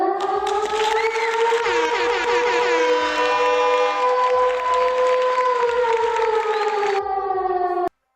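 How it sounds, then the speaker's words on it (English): A loud wailing siren sound effect played during a livestream, rising and holding a steady two-tone wail for several seconds before cutting off abruptly, alone without talk. "Let's hit the sirens."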